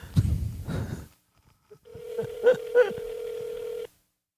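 Telephone dialing: a steady tone carries a quick run of keypad beeps for a couple of seconds, following a short burst of nearby talking.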